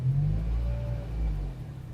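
A Daihatsu Atrai 7 van engine revs up steadily under load while its clutch bite is tested, a deep sustained rumble that swells and eases, close by with no talk.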